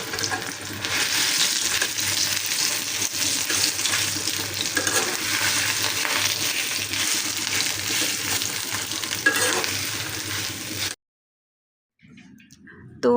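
Potatoes and spiny gourd frying in hot oil in a wok, a dense continuous sizzle with stirring, close and steady for about eleven seconds before cutting off, with a voice speaking over it.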